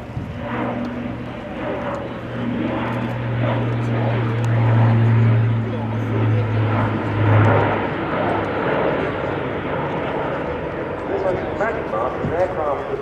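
Airbus A400M Atlas four-engine turboprop transport making a steep descent at an airshow, a sustained droning propeller hum with a low tone that swells and fades in the distance while a commentator talks over it.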